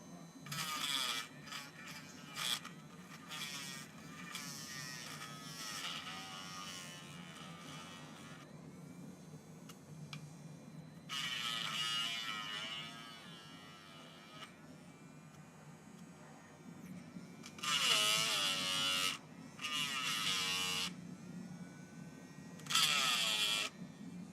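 A Dremel rotary tool buzzes in the background in bursts of high-pitched whirring, starting and stopping several times over a low steady hum, fairly quiet throughout.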